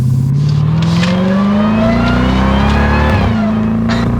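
A 2021 Dodge Durango SRT Hellcat's supercharged engine accelerates at light throttle, a loud, steady, rising growl with supercharger whine, heard up close from inside the vehicle.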